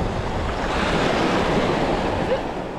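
Ocean surf at a beach washes over a person, a loud, continuous rushing roar of breaking water mixed with gusty wind noise on the microphone.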